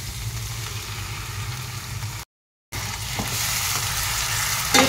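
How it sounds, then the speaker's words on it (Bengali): Onion fries with cashew and tomato paste stirred in for an egg lababdar, a steady close sizzle with scraping stir sounds, briefly dropping out to silence before the frying resumes. "এবার আমি এর মধ্যে দিয়ে দেব কাজু বাদাম আর টমেটোর পেস্ট।"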